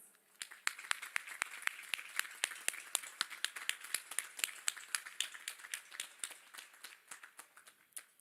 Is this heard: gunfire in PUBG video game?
no